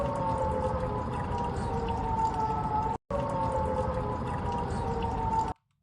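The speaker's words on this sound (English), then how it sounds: "air raid sirens can be heard coming from the U.S. consulate complex near the city of Erbil" Distant air raid sirens from the U.S. consulate complex near Erbil wail in a steady sustained tone over a brief gap, continuing for several seconds before cutting off.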